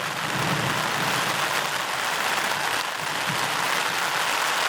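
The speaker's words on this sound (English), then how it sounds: "It is raining." Heavy rain pours steadily on a lake in Woodland Caribou Park in the Canadian boreal forest, a dense, even hiss that fills the whole stretch without pause.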